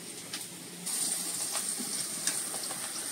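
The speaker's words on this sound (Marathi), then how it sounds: "ही जी लसूण आपण फोडणीत घातली आहे तर ही आपल्याला अगदी लाल खरपूस करायची आहे" Garlic sizzles in hot oil for a tempering, a steady bright frying hiss that swells louder after a moment and continues with small crackles, close up and with no talk.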